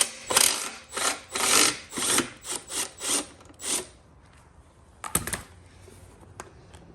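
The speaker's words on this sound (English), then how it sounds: "Using a long extension and an 8mm socket, undo the transmission top access cover and undo this single bolt." A hand ratchet on a long extension with an 8mm socket loosens the single bolt on a Honda lawnmower hydrostatic transmission access cover, giving a run of close rasping clicks, then a pause and one short final burst.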